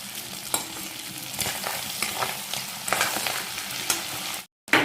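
Chicken cooking with home-ground cumin powder for a Mishing dish sizzles loudly and steadily while a utensil scrapes and stirs it in repeated strokes. The noise cuts out briefly near the end before resuming.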